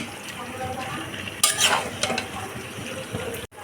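Steady pan sizzle of chicken and potatoes cooking, with a burst of stirring and utensil scraping midway, then a brief clatter before a short drop-out.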